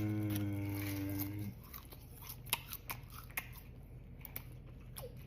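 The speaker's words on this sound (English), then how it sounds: "I'm gonna do a big bite." A big crunchy bite into Takis Fuego beef jerky coated in spicy seasoning, one loud crunch followed by several sharp, close chewing crackles with no talking.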